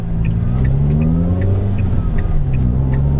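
A car fitted with Newman inlet cams, a Fusion Fabrications inlet and a custom remap runs loud and close from inside, its engine a steady, throaty drone whose pitch climbs slightly as it pulls.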